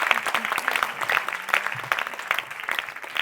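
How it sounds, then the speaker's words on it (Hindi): An audience at the Virasat Kamaladevi cultural festival claps in a burst of close, uneven applause that rises and dips, with individual hand claps standing out from the crowd. "तालियां जोर से बजाएं"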